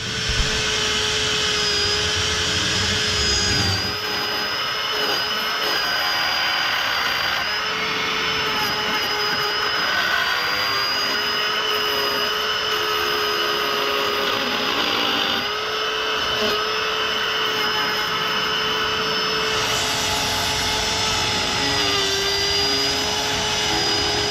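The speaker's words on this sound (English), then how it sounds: "all you're going to do is router out the section here and on this old piece of where it's going to be" Router cutting out a section of an old wooden porch post, a continuous loud high-pitched whine with steady motor hum that dips slightly in load now and then but runs unbroken throughout.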